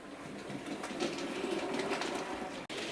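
A Hornby model heavy freight train runs steadily along its track, a continuous close rolling rumble and rattle that holds level for nearly three seconds before a brief dropout near the end.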